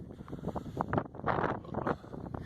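Wind gusting across open Dartmoor moorland, buffeting a nearby microphone with uneven rumbling surges that rise and fall over a couple of seconds.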